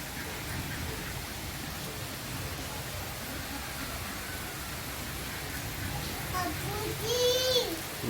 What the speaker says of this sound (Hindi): ये बारिश जो है वो मज़ीद तेज़ हो गई है